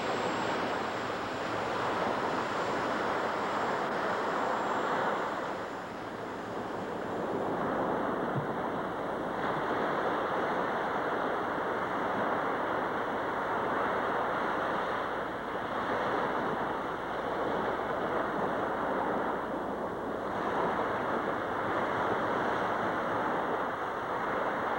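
Sea waves on the Chilbosan coast wash in a steady, broad roar that swells and eases every few seconds, mixed with gusty wind and no voices.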